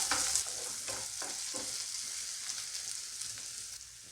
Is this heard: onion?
yes